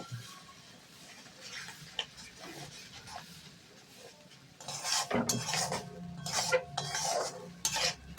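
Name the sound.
stirring and frying spice paste with tomato in a pan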